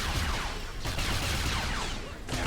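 Blaster fire in Star Wars: The Old Republic crackles in a rapid, continuous barrage, loud and dense, with a brief dip near the end.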